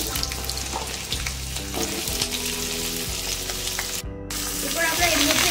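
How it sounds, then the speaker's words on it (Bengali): Cut potatoes hit hot mustard oil in a pan, giving a steady, close, crackling sizzle that runs throughout over faint low background tones. "সরষের তেলটা গরম হয়ে এলে আমরা এর মধ্যে দিয়ে দেব কেটে রাখা আলুগুলোকে"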